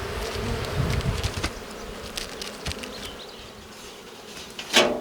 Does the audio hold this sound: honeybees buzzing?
yes